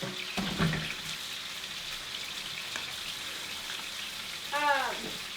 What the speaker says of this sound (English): So there, I have them in the pan frying.